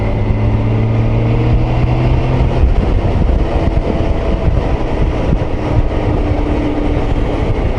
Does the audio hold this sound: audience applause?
no